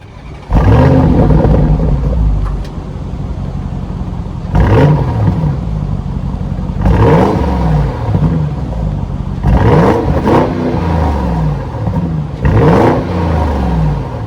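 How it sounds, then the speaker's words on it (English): An Audi SQ8's twin-turbo 4-liter V8 engine is revved repeatedly, five sharp roaring bursts rising and falling over a steady idle rumble, loud and close. "that was the sound of the twin-turbo 4-liter V8 sold by Audi"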